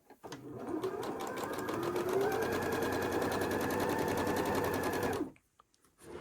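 A sewing machine runs steadily for about five seconds while chain piecing quilt blocks, a close, continuous motor whir with rapid needle ticking, then stops abruptly and leaves near silence.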